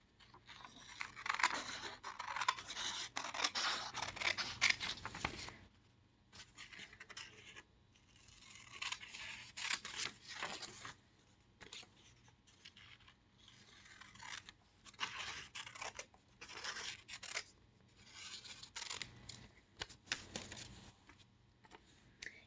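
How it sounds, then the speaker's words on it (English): Repeated crisp snipping and rustling as scissors cut through paper close by, in bursts with short pauses, no talking. "I'm going to first cut all the way around the triangle to make an outline with my scissors."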